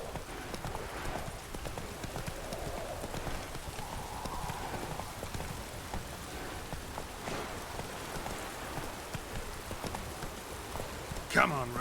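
Horse hooves clip-clop in steady rhythm as Roach is ridden in The Witcher 3, with rain patter around them and someone speaking over the hoofbeats.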